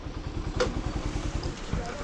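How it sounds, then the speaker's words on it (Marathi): Motorcycles of a touring biker group idle at the Atal Tunnel portal in Himachal, a steady low thumping engine rhythm running close by under people talking. "इथं बघा बायकर ग्रुप."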